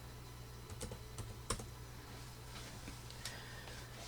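Faint, scattered keystrokes on a computer keyboard while entering text for a Cricut welcome sign project, a few sharp clicks spread over steady low background hum.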